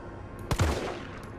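A single loud gunshot from a firearm in the video game Resident Evil 3 Remake, a sharp crack with a short echoing tail over a quiet, low background.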